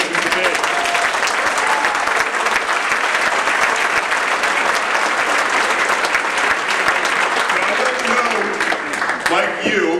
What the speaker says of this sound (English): So I want everybody here to give yourself a round of applause